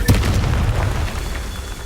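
A Confringo spell explodes in the Hogwarts Legacy video game with a loud, deep boom and a sustained rumbling tail that fades slowly over about two seconds.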